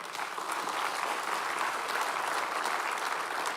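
Churchgoers clap together in a congregation, a brief, steady burst of dense applause at moderate distance.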